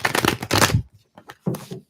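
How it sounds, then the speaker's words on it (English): Tarot cards being shuffled by hand in a few quick bursts of riffling and sliding, close and moderately loud, with short pauses between them and no talk. "Let me just shuffle here."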